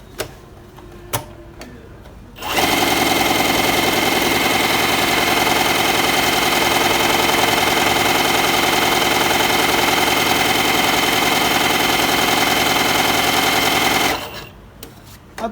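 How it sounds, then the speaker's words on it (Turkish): A Tugi mk1919 overlock sewing machine runs a three-thread narrow overlock stitch in one long, loud, steady buzzing whir lasting about twelve seconds, bracketed by quiet handling clicks before and after. "Bu da 3 iplik ince dar overlock."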